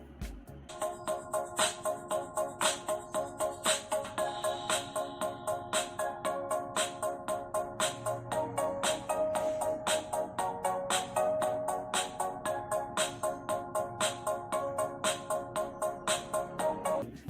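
A bright, plinking electronic melody plays back through a laptop's small built-in speakers, steady and rhythmic with tinny tone, no talking over it.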